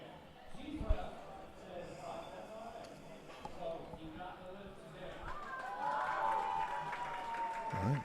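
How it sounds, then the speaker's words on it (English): A crowd cheers and applauds at a powerlifting meet while the bar is loaded, a steady mid-distance roar building slightly toward the end, with a voice talking over it. "see the crowd cheering"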